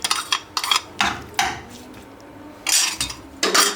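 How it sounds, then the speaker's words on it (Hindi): Pieces of chicken go into hot oil in a pan for a chicken sandwich filling, giving several loud bursts of sizzle and clatter separated by quieter gaps, with no talking. "अब अंदर चिकन ऐड करने लगी हूँ।"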